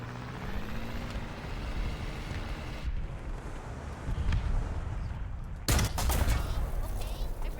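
Tank guns firing shells in the War Thunder video game, with Swedish Strv tanks in the battle: deep booming shots over a rumbling engine drone, one sharp, loud blast standing out near the end.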